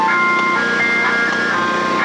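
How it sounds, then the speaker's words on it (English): A tinkling electronic tune plays from a nearby ice cream truck, repeating melodic notes over a constant low engine drone. "It's the ice cream truck."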